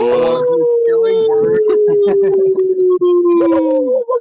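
A person imitates a wolf, letting out one long, loud howl whose pitch slowly slides downward, with other people talking over it in the background.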